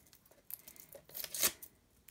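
A craft-mail parcel is cut open with scissors, heard as soft snips followed by a louder burst of tearing and crinkling packaging, close by with no talking.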